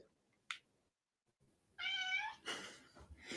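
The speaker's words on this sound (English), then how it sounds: "my cat is meowing" A house cat meows once clearly up close, a drawn-out tonal cry, followed by a breathy noisy burst, with a faint short click earlier in near silence.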